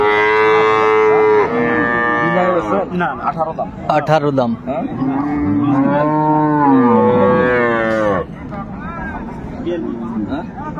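Dairy cows and calves of improved breeds moo loudly and repeatedly, close by, at a busy cattle market in Raniganj, Dinajpur, with people bargaining and talking over the lowing.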